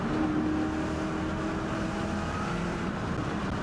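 A Ford Mustang Mach 1 with an Eaton supercharger drives under power, giving a steady engine drone with a faint whine riding on top, heard from inside the car at moderate loudness.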